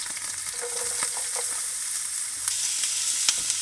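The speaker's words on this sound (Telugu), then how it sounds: "దాంట్లో ఫ్రై అవుతున్న ఆనియన్స్లో కూడా ఉప్పు వేసుకోవడం కోసం" Finely chopped onions frying in a pan with chillies for ragi dosa, a steady close sizzle with a few light clicks and stirring scrapes.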